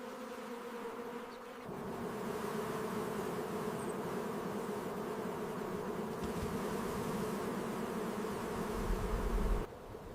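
A dense, steady buzzing of many bees hums continuously at close range, with no voices, briefly thinning at the start and end.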